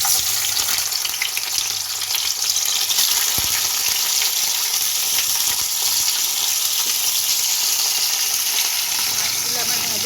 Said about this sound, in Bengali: মাছগুলো আমার ভাজা হয়ে গেল